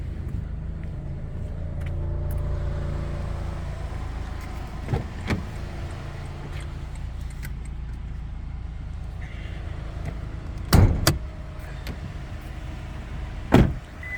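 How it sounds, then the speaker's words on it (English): Inside a 2022 Toyota Tundra TRD, a low idle hum carries under faint clicks and small mechanical taps, then two sharp thumping clunks as the hood release is pulled and the hood pops open. "Alright, just gonna pop the hood."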